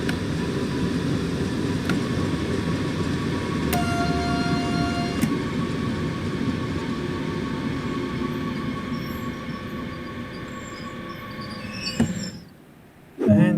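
An eight-car electric DB BR422 multiple unit in Train Sim World 2 runs with a constant loud rumble and a steady whine, with a brief tonal chime partway through, before the sound cuts out abruptly.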